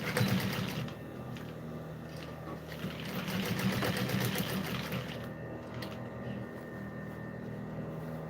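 A sewing machine stitches a handbag lining in a continuous fast mechanical whir with rapid needle ticking, steady and near, with no voices.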